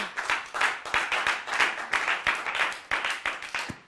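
A church congregation claps and cheers in acclamation of Jesus during a French-language service, with dense, rhythmic applause running steadily throughout at close range, with no talking over it.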